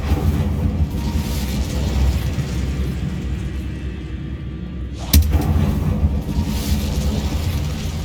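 A fire spell is cast in the video game Hogwarts Legacy, heard as a loud rumbling, crackling burst that flares suddenly with a sharp impact and then a roaring wash in a catacomb setting.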